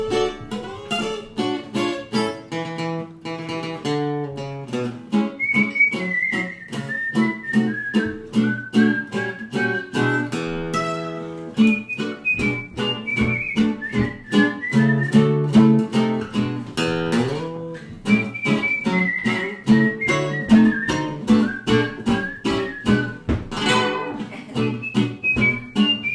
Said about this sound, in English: is now going to play his guitar and whistle for us